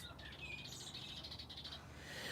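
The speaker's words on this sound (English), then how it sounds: "listening to the birds" Birds chirp in quiet outdoor surroundings, thin high tweets and short repeated calls scattered across a soft, faint background, with no voices.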